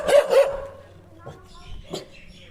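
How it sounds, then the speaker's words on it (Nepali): A dog barks twice in quick succession close by, then gives quieter yips while a person talks nearby. "झ्याम्मे कुकुर झ्याम्मे"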